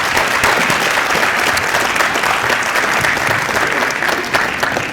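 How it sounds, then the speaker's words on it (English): An audience gives loud, sustained applause for a beginning school band at a demo night, dense clapping holding steady throughout. "How about a big round of applause for the beginning band?"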